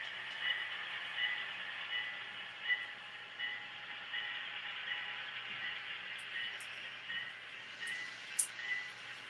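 A train rolls out of a rail yard in a simulator game, its steady engine drone and rumble holding fairly constant throughout, with a few brief higher clanks near the end.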